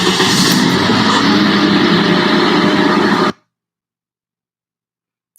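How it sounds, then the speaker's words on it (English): A car engine cranks and catches, settling into a loud rough run for about three seconds before cutting off abruptly into silence. "I think you meant starting a car."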